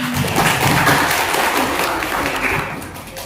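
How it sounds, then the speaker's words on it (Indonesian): Classroom applause for a student group after their mathematics presentation, a dense, steady wash of many hands clapping close by that holds loud and then tapers slightly at the end. "Oke, tepuk tangan untuk kelompok 1."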